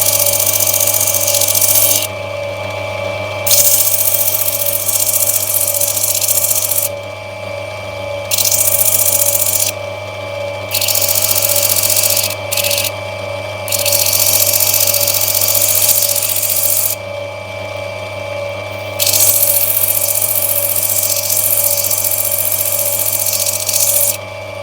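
Lightning Ridge black opal being trimmed on a cutting wheel: a steady high-pitched motor whine with a hissing grinding layer that starts and stops repeatedly as the stone is pressed to the wheel, close and loud.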